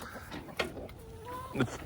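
Hens moved onto fresh, thick green grass give soft, scattered clucks and a couple of brief higher calls, fairly close, over quiet outdoor background.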